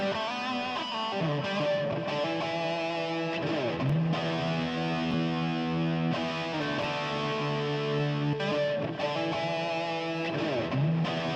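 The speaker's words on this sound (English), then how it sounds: "you can hear the sound with the delay and reverb." Reamped electric guitar run through delay and reverb effects, playing sustained chords and melodic lines that ring out and trail into echoing tails, loud and continuous with no talking.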